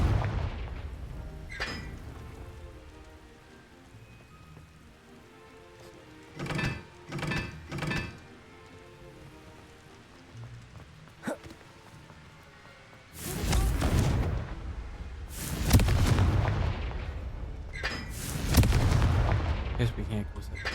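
Confringo fire-spell explosions in the video game Hogwarts Legacy: a few short booms early on, then heavy rumbling blasts in the last stretch, with quieter game sound between.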